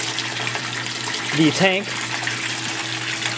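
Water from a 1-inch aquaponics standpipe gushes steadily into an IBC tank in a backyard setup, a continuous close splashing flow running beneath a voice.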